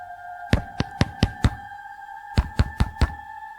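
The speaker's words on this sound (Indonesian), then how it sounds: "Terdengar suara ketukan." Knocking on a door at night: two rapid groups of sharp raps, five then four, close and distinct against a quiet background with a steady hum.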